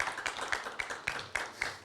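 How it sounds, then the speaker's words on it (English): A small audience at a talk claps in a steady, even rhythm, with about seven crisp claps close together and no voices over them. "Round of applause."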